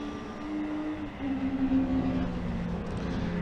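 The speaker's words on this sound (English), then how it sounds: "The induction noise of that BMW E36 is glorious." BMW E36 race car circuit racing at Brands Hatch, a loud sustained engine and induction drone that rises in pitch as it passes close, with no talk over it.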